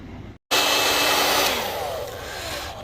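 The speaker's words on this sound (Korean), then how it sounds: "드라이기를 이용해서 모터의 내부 온도를 좀 올려줄 거예요" A hair dryer blows hot air onto an e-bike hub motor in a cold repair shop, starting abruptly after a short silence and then running as a steady, loud, close whooshing roar with a faint whine.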